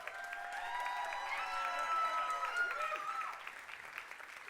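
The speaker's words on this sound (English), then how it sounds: "I also want you to give a huge round of applause to Lindsay for being an amazing host this evening." An audience at an award show in the Biltmore Theatre applauds the evening's host, with clapping mixed with rising cheers and whoops that swell and then fade.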